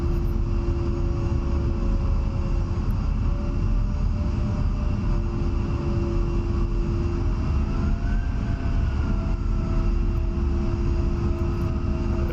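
An A-10 in the DCS flight simulator taxis with its jet engines in a steady loud whine, a sustained tone that holds throughout and rises slightly in pitch partway through, with no talk over it.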